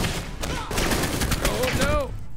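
Gun turrets fire in the video game Alpha Protocol, a dense, loud burst of rapid gunfire and impacts layered with game effects, while a person talks and exclaims over the action.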